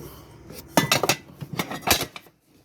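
Vintage pots and small dishes from an old storage unit clink and clatter as they are handled, a few sharp bursts of ceramic and metal knocks, close and unaccompanied by talk.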